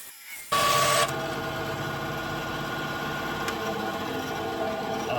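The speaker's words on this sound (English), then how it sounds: "let's get over to the bandsaw and get this thing reduced down" Bandsaw starting up to trim a holster, a sudden loud whirring burst settling into a steady hum of the running blade and motor, with one faint tick partway through, close by and without talk.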